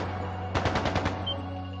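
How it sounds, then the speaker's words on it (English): Gunfire in the video game Trails of Cold Steel II rings out as a quick rattling burst of several rapid shots in the middle of a steady game soundtrack hum. "That sounded like gunfire"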